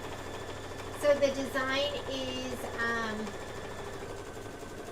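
An embroidery sewing machine hums and chatters steadily while quilting a Kimberbell design, with someone talking over it.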